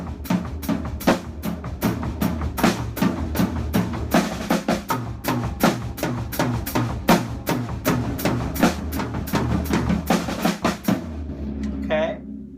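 Flam patterns with diddles played on a drum set, moving around to the floor tom: dense, rapid strokes in steady rhythm, close and loud, ending with a ringing low decay.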